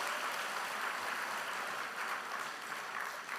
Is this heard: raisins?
no